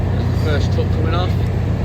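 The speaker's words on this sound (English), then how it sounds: "First truck coming off" Truck rolling off a ferry at Heysham port bound for the Isle of Man, a loud low engine rumble close by with someone talking over it.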